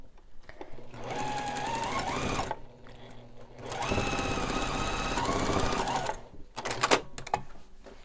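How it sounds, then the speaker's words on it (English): A sewing machine runs in bursts while stitching a quarter-inch seam on a pillow sham made for a vintage quilt, its fast mechanical chatter rising and stopping three times, close and fairly loud with short quiet gaps between runs. "corner to corner, and we're going to sew that one together."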